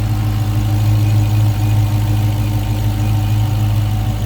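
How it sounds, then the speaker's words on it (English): A 2016 Dodge Challenger SRT Hellcat's supercharged Hemi V8 idles close by with a deep, steady, even rumble and a slight whine. No one speaks. "supercharged Hemi SRT Hellcat engine"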